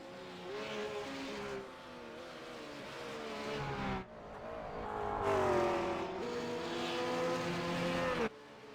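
Engines of GT race cars in a sim racing game lapping Bathurst, a steady loud whining drone that rises and falls with gear changes and acceleration, continuous throughout.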